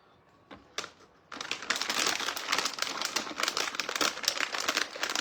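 Skin being peeled off a root vegetable: after a few faint scrapes, a dense run of close crackling, tearing and crinkling starts and continues steadily to the end.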